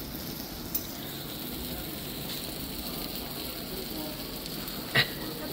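A hot dish sizzles steadily after being served at a family restaurant in Kolkata, a constant hiss with a couple of sharp pops and clinks, no talk over it.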